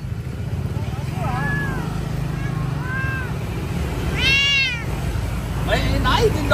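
A cat meows several times in an outdoor setting, with short rising-falling cries spread across the clip over steady background rumble and traffic-like noise; people talk nearby.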